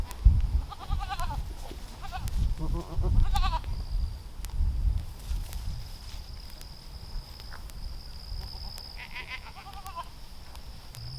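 Several goats bleat in short bursts, some near and some farther off, over a quiet outdoor background with a faint steady insect-like whine.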